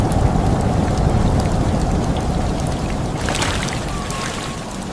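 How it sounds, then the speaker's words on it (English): Black rain of radioactive ash and moisture falls in a heavy, continuous downpour in Hiroshima in 1945, a loud, dense hiss with a low rumble underneath and a sharper crackle partway through. "This is the infamous black rain of history, a deadly combination of radioactive ash and moisture."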